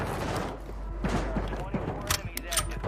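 A gun fires in the video game Call of Duty Warzone, with quick repeated shots and thuds over a low rumble as a voice talks over them.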